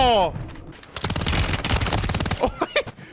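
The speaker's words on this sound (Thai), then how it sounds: "ถ้าเราถือปืน2กระบอกมันจะลดอัตรา การยิงลง ถือคู่มันจะรัวประมาณนี้ครับ" Dual-wielded machine guns in the video game Warzone fire rapid, loud bursts of shots that rattle on for about a second and a half, then a few scattered shots follow. A voice is heard briefly at the start.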